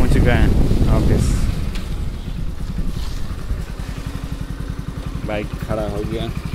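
A motorcycle rides through Chennai streets and pulls up at an office building, its engine rumbling loud with wind buffeting at first, then settling to a steadier, quieter idle as it stops, with brief voices over it.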